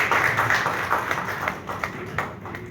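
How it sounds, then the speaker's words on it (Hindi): Audience applause at a Doctor's Day event in Bihar welcomes a guest of honor, with a loud burst of clapping that thins into scattered individual claps. "इनका भी स्वागत करेंगे जोरदार तालियों के साथ"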